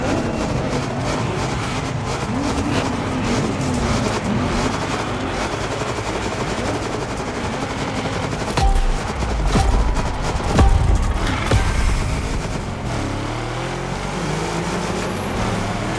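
A Chevrolet Caprice donk races in The Crew Motorsport with a loud, continuous engine roar amid dense racing noise from other cars, with a couple of louder rumbling swells midway.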